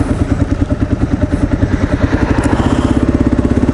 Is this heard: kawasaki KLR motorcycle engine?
yes